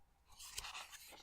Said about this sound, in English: You hear this? This is paper.